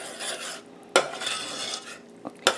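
Butter and vanilla are stirred into a hot pecan praline candy mixture with a spoon in a pot, giving soft scraping swirls broken by two sharp clinks of utensil against the pan.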